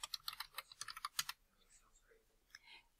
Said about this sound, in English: I can now type my answers